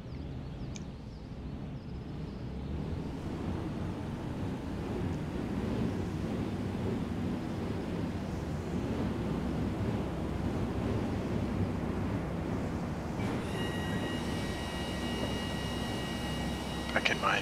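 A light JMB aircraft taking off in Microsoft Flight Simulator 2020, its engine a steady droning roar mixed with rushing wind noise that builds and holds, with a faint whine entering near the end.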